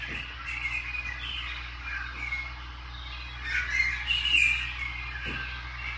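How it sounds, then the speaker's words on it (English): Soft, steady chirping birdsong from a baby monitor's sound setting plays continuously over a low hum, faint and somewhat muffled, with no voices. "Birds."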